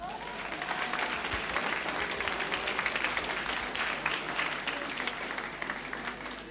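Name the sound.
audience applause at carnival session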